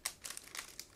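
A plastic bag of 1/72 scale IBG Models PZL 37B Los kit parts crinkles close by, with soft irregular rustles and sharper crackles spread across the moment, and no one speaking.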